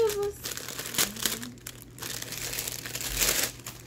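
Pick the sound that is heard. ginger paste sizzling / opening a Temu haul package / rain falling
opening a Temu haul package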